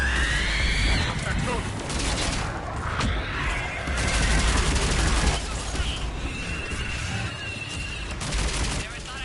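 Missile barrage in the Mass Effect 3 video game: dense, loud bursts of rapid firing and booming impacts rolling on without pause, with voices talking underneath.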